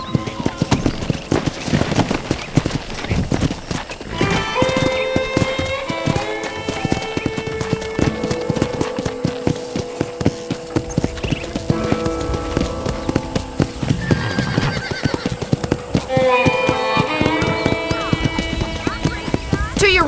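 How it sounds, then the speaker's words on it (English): A horse is ridden in the Red Dead Redemption video game, its hooves clip-clopping steadily and prominently throughout, with occasional tonal sounds layered over the hoofbeats. "let's see if you can still ride a horse"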